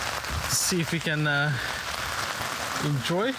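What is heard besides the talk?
rain falling at campsite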